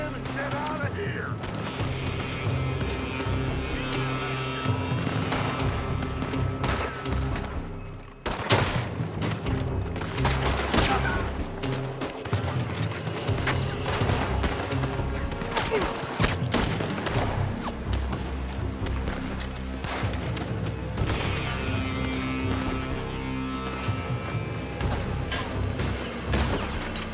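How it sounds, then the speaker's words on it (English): Sustained gunfire from a building in Red Dead Redemption 2: dense, rapid volleys of shots crackling continuously over loud game music and action noise, with a brief lull partway through. "They're shooting from that building!"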